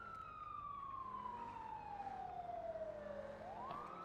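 A wailing emergency vehicle siren from the GTA roleplay game NoPixel 4.0 sweeps slowly downward in pitch, then climbs sharply again near the end, steady and fairly loud against a constant background hum, with no talking.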